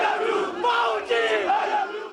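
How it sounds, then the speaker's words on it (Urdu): PML-N party workers chant slogans as a loud, close crowd, with voices rising and falling together in rhythmic shouted waves. "اس موقع پر نون لیگی کارکن نعرے بازی کرتے رہے۔"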